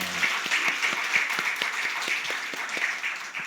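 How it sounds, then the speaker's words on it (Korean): Applause for a church children's choir at a Christmas Eve Wednesday service, a steady crowd of hands clapping in a hall for several seconds without talk, fading slightly at the end. "우리 싱어들을 위해서 박수 한번 하겠습니다"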